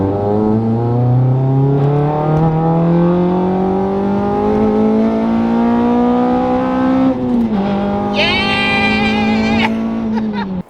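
A Honda Civic FN2 converted to a K24 engine revs hard, its pitch climbing smoothly through a long pull, then dipping before a second, higher-pitched rev near the end, loud and close with no talk.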